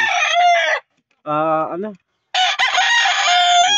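A Sweater gamecock crows loudly and close, two long harmonic calls separated by a shorter, lower call and brief silences.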